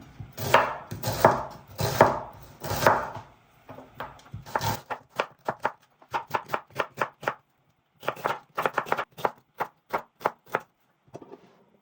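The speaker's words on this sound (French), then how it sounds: "Juste avant d'aller passer à la cuisson, je viens émincer les oignons." Onions being sliced with a knife on a board for a Moroccan rfissa, a rapid run of crisp, close chopping strokes in bursts with short pauses, loud and alone.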